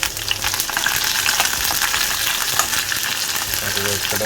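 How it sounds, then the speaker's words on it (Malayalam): Small shallots fry in hot oil in a pan for a Kerala coconut fish curry, a loud, close, continuous sizzle with spatula stirring scrapes running through it and no one speaking. "ചെറിയ ഉള്ളി ഇട്ടിട്ട് നൈസായിട്ടൊന്ന് ഇളക്കി കൊടുക്കാം"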